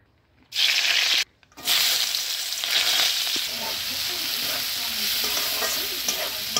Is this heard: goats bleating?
no